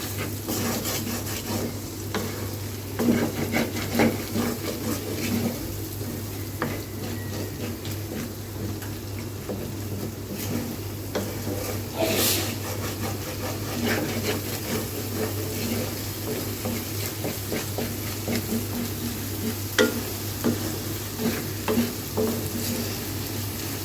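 Bitter gourd and small shrimp stir-frying with packet spices in a pan, a steady close sizzle broken by scraping and rubbing strokes of a stirring utensil throughout, with no talking.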